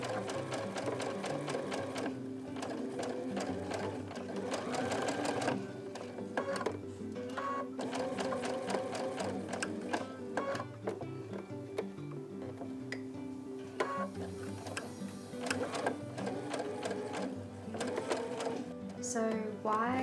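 A sewing machine stitches quilt pieces together in steady mechanical runs, a rhythmic whirring pulse that continues under background music, with brief pauses between bursts.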